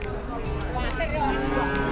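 A four-month-old Limousin calf moos at a cattle market, one drawn-out low call filling the moment, close and loud, with market noise behind.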